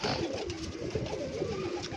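A loft of Pakistani pigeons, part of a batch of 68 birds, coos continuously in overlapping low throaty calls, close and steady throughout.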